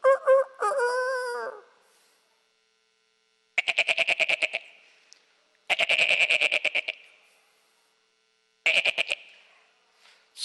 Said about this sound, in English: that's his rooster